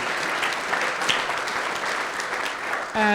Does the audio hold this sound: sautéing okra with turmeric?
no